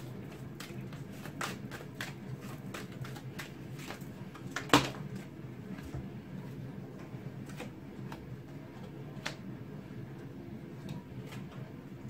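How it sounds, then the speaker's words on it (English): Tarot cards are dumped out onto a table, making soft scattered taps and light shuffling clicks in a quiet room, with one sharper click partway through. "When they dump the cards out like this"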